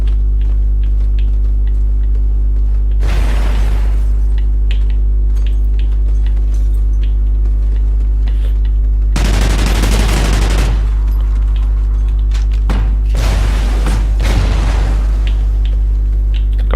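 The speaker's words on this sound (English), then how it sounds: "Rapid fire launcher on this as well." Rapid-fire grenade launcher in Call of Duty Ghosts multiplayer: several bursts of loud booming launches and explosions, spaced seconds apart, over a constant low electrical hum with almost no talk.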